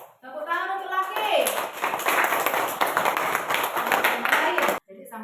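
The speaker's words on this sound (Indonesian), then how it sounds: "Tepuk tangan untuk laki." Children in a classroom clap for a fellow student, a dense burst of close, rapid hand claps lasting several seconds that stops abruptly, with a voice briefly audible at the start.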